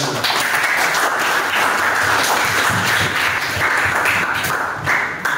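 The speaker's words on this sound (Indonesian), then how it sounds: "Tepuk tangan." Classroom audience applause during a school lesson on motorcycle filtration, dense sustained clapping from many hands filling the room loudly and evenly for several seconds.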